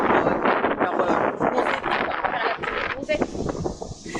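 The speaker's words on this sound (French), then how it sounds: "il y a tellement de vent que c'est genre impossible" Strong wind buffets the microphone at a beach, a steady roaring rumble with gusty swells throughout, mixed with someone talking over it.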